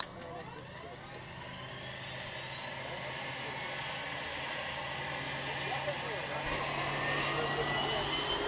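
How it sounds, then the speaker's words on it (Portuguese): Engines of a skydiving jump plane run as a loud, steady, continuous drone throughout, heard from close by with faint voices underneath. "Ligaram os motores!"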